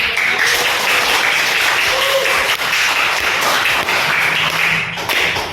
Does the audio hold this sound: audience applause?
yes